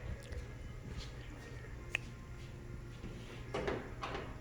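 Top clamp on the folding windshield of a Yamaha Viking side-by-side being opened: a faint, sharp click near the middle and a softer clack later, against quiet background hiss.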